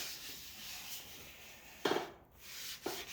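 Paste rubbed onto an ambrosia maple piece spinning on a wood lathe gives a soft, close friction hiss with two brief louder scuffs, quiet and without speech.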